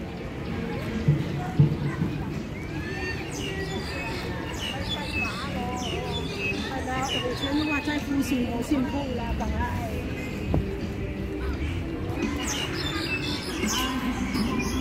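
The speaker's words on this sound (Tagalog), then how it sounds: "Ang ganda ng mga tugtog ng ano, tunog ng ibon. Mga huni." Birds chirp and tweet continuously in the background of a busy outdoor scene, with people talking and footsteps throughout.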